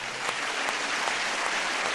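A church retreat audience in Bordeaux applauds steadily, many hands clapping together in a sustained, even wash of sound.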